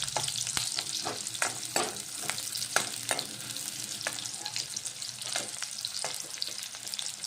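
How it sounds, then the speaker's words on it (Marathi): Onion frying in oil in a pan with a little salt, heard as a dense, steady sizzle close up, broken by frequent sharp crackles and spatula scrapes. "कांदा तुम्ही तेलामध्ये टाकला, कांदा अगर लवकर आपल्याला शिजून घ्यायचा आहे तर मीठ टाकून द्यायचं"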